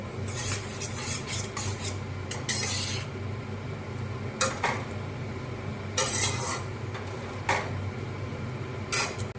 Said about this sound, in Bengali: চেরা কাঁচা লঙ্কা আর টমেটো কুচি দিয়ে মশলাটাকে ভালো করে মিশিয়ে নেব